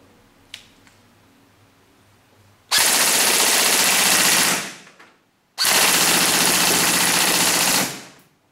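A Ra-Tech Bolt B4A1 airsoft gun on an 11.1 volt battery fires two loud full-auto bursts of rapid, buzzing shots, each lasting about two seconds, separated by a short pause after a faint click.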